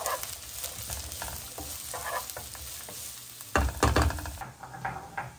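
Onion hitting a hot pan and frying, a soft continuous sizzle broken by stirring scrapes, with a louder burst of crackle and clatter midway before it settles back.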